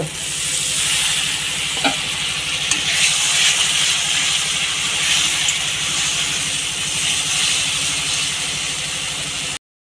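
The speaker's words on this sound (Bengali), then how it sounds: "এখন আমি একটু জল দিয়ে দেব।" Water poured into spice masala frying in oil for a boal fish curry with eggplant and tomato sets off a loud, continuous close sizzle and hiss that stays steady throughout with no talking.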